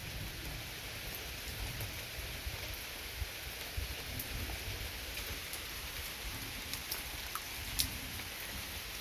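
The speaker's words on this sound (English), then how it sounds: "I know it's raining, huh, Miss Panda? It's raining." Steady rain falling during a thunderstorm, a continuous hiss with scattered drips and taps on surfaces, fairly quiet and even throughout, no voices.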